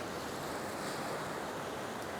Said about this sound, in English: I'm trying to get the water rushing up into here